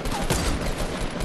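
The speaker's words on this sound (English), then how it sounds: "He's shooting at me." Rapid bursts of gunfire from the video game Fortnite during a battle royale match, dense and loud crackling shots packed into a short stretch with no voices over them.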